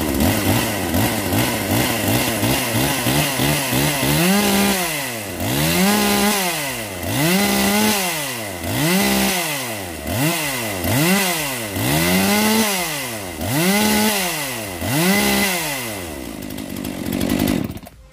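A 42cc Swedish Husqvarna 42 chainsaw runs close and loud, starting with a rough idle and then revving up and down again and again in even, regular bursts before cutting off at the end.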